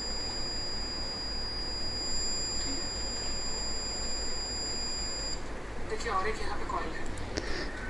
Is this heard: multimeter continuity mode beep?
yes